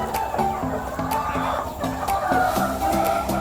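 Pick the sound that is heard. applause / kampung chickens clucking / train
kampung chickens clucking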